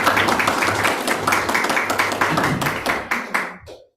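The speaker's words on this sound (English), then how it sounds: "Clap for yourself." An audience at a Srimad Bhagavat Saptaham discourse claps together, a dense burst of hand claps that thins into a few scattered, separate claps before stopping.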